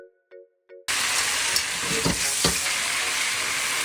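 Liver hits a hot pan and bursts into a loud, sustained stir-fry sizzle after three short electronic beeps, with a couple of louder crackling surges partway through.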